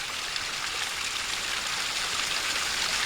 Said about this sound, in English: Oh cool, there's like a little waterfall down there.